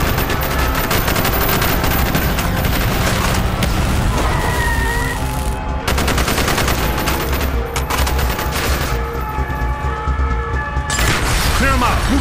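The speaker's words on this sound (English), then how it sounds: "Bowman, Carlos, lay down covering fire." Dense gunfire fills a street battle in the Call of Duty Black Ops campaign, sustained machine-gun bursts and heavy booms packed together at full loudness with constant game sounds.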